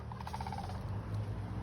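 A wild bird outdoors gives a quick run of bright, gobbling call notes, close and clear over a low rumbling background, then falls quiet.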